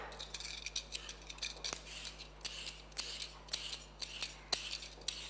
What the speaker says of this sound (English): with a peeler, just peel it.